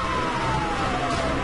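A police car siren in the Need For Speed Hot Pursuit video game gives a steady, loud wailing tone over continuous engine and road noise.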